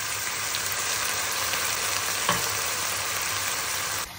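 Sausage frying in a pan and deglazed with brandy, giving a loud, dense, continuous sizzle close up with a brief stirring scrape partway through, ending in a slight drop.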